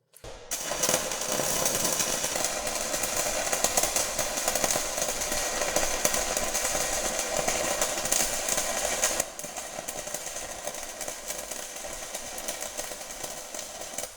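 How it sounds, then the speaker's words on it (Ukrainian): Short-arc stick electrode welding on a workpiece, with a harsh, continuous crackling buzz held close. It drops to a slightly quieter hiss partway through, and no one talks. "Електрод плавиться, також не забуваємо опускати його."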